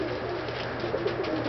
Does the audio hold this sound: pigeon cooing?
yes